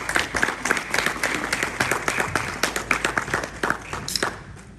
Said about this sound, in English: Ladies and gentlemen, round of applause again.